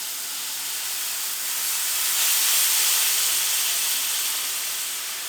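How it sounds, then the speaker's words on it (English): Liquid hitting a very hot pan while deglazing, giving a steady, loud, bright sizzling hiss that swells in the middle and eases off slightly, with no voices. "As soon as I add this liquid, this is going to splatter everywhere."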